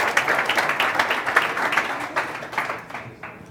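Audience at a commercial spaceflight conference gives a round of applause, dense clapping from a crowd that holds steady, then tapers off in the final second.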